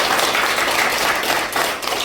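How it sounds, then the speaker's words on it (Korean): Hands clap together in a dense, continuous patter that sounds like a room full of people applauding close by, with slight voice activity in the background. "아 그럼 박수 쳐야지 이렇게."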